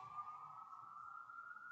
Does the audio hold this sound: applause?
no